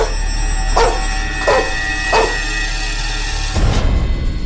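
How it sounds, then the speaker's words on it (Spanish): Dogs bark three times in a row at a steady pace, fairly loud and close, over a constant low hum, followed by a muffled thump near the end. "ladridos."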